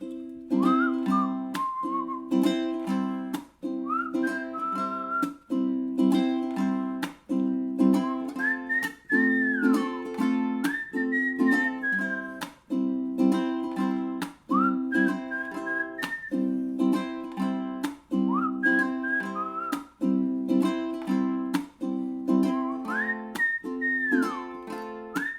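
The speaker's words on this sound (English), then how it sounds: "Whistle." A person whistles a melody over a steady strummed ukulele, the tune rising and falling in repeated clear phrases for about twenty-five seconds, with no talking.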